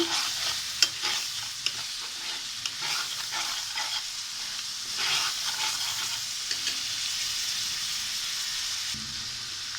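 Hilsa fish pieces being stirred with salt and turmeric in a pan for mustard hilsa, a steady close scraping and stirring with a light sizzle running throughout, no voices.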